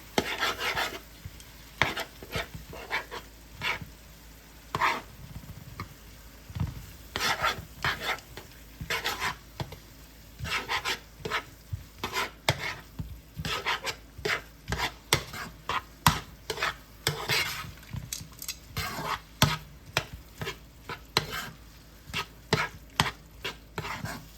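A spoon stirs tomato paste into beef and onions in a stew pot, making rhythmic scraping strokes against the pot under a faint sizzle. The strokes repeat steadily and close, with no voices.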